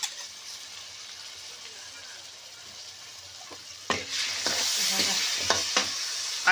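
Moth beans and potatoes drop into hot oil with chilli, onion, coriander and spice masala, a soft steady sizzle rising into louder crackling and scraping stirs toward the end.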